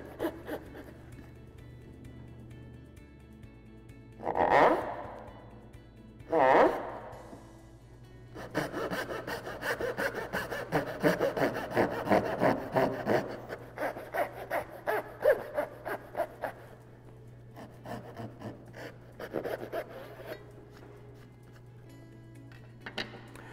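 A hand saw cuts wooden dovetails down to a marking gauge scribe, with two short bursts of strokes near the start followed by a long, steady run of rhythmic rasping strokes close by that taper off near the end.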